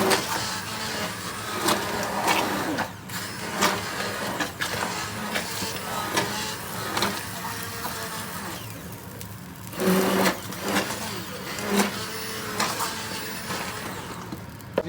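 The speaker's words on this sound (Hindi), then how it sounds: "अब हल्का सा इसको हम ग्राइंड कर लेंगे।" A hand blender grinds cooked red lentil daal (masoor dal) in a pot, a steady whirring motor buzz with a few louder surges as the blade churns the thick lentils, close and continuous with no talking.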